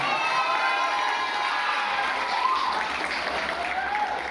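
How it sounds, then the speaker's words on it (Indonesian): Children's applause from a school audience at a community water and health event, steady clapping filling the space alone for several seconds with crowd noise and no speech. "Tepuk tangan."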